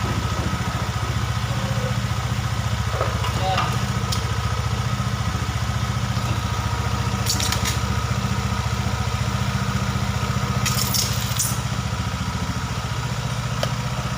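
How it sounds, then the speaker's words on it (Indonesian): A Honda Beat Street scooter engine idles steadily and close by with a continuous low rumble and faint clatter, while a few brief ticks and clicks rise above it. "coba kita hidupkan motornya. Nah, hidup Mas Bro."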